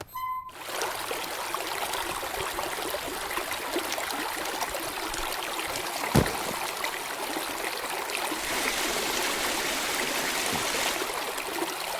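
Steady running water from a tap in the horror game Fear the Spotlight, a continuous hiss and trickle that holds fairly loud and even for the whole stretch, with one brief thud partway through.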